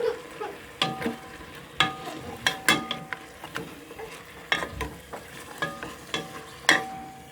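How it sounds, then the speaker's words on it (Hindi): Meat, tomatoes and two green chillies stirred in a frying pan for tinda gosht, with scattered clinks and scrapes of the spoon over a soft, steady sizzle. "इनको अच्छी तरह से हम मिक्स करेंगे।"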